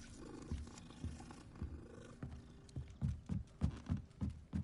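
Big cats growl and purr in the video game Hogwarts Legacy, a low rumbling run that swells into louder, rhythmic growls near the end, close and alone without talk.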